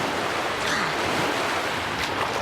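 Ocean waves in The Legend of Zelda: The Wind Waker, a steady, close, full wash of surf and water with a faint wind-like hiss, continuous throughout.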